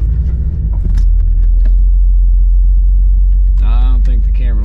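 A 1997 Corvette engine idles with a steady deep rumble close by, and a person talks briefly near the end over the running motor.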